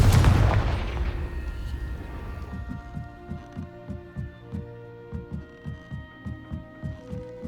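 A Confringo blasting spell in Hogwarts Legacy, fought in a spider-infested cellar: a loud booming blast opens, decaying into a ringing tonal hum, followed by a steady series of low rhythmic thumps.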